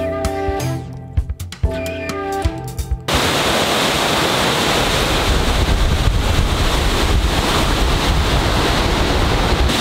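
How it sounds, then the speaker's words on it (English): Aber Falls waterfall in Wales roars as a loud, steady broadband rush of falling water after a few seconds of music. "So we found a waterfall."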